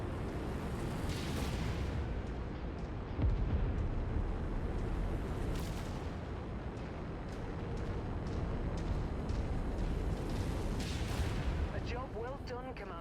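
Heavy missile explosions and booming impacts roll across a battlefield in the video game MechWarrior 5: Mercenaries, layered into a dense, continuous rumble with sharper blasts every few seconds and a synthetic voice speaking over it.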